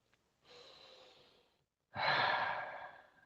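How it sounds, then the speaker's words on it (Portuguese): Two long, deep breaths are heard up close during a relaxation exercise, a softer inhale followed after a pause by a louder, fuller exhale in a quiet room. "repita por 3 vezes a respiração longa e profunda"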